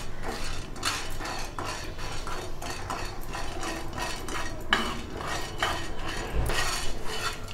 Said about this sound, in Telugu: మినపప్పు కూడా మాడకుండా కలుపుకుంటూ వేయించుకోవాలి